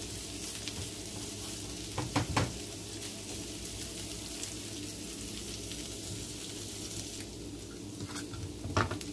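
A potato filling with dehydrated soy bacon sizzles steadily in a frying pan while being stirred, with a constant close crackle and occasional louder scraping strokes from the utensil.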